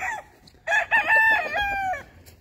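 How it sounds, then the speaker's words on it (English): A white-legged rooster crows once on an Oklahoma farm, loud and close, a long harmonic call that rises and holds before cutting off, with quiet background around it. "They nice roosters."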